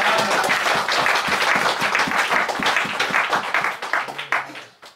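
A church congregation claps and cheers in a dense, continuous burst of applause that fades out at the end.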